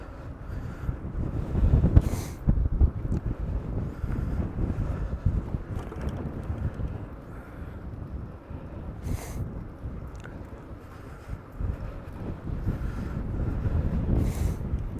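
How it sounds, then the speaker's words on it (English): Headwind buffets the microphone during a bike ride around Provincetown, a continuous low rumbling roar with gusty surges throughout. "So I have a headwind here"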